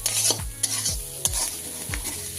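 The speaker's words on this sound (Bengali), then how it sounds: "অল্প একটু নাড়িয়ে নেবেন" Onion with coriander leaves and lemon is stirred in a sizzling pan, with a spoon scraping in four or five distinct strokes over a low, steady fry.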